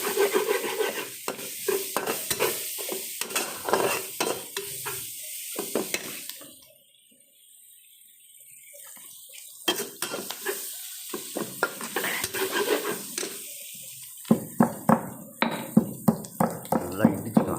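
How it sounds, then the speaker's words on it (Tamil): Onions sautéing with green chillies in a pan, stirred with repeated scraping strokes over a steady sizzle; a quieter pause midway before the stirring resumes close up. "ஆனியன் நல்லா வதங்கி வரட்டும்."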